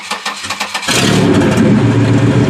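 A W-body car engine cranks with a few rhythmic starter turns, then catches and settles into a steady, loud running idle.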